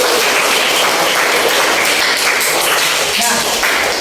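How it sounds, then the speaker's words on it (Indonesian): High school classroom applause at SMA N 1 Karangnongko, loud close clapping from many students filling the space, with voices mixed in. "mari kita tepuk tangan buat kita semuanya"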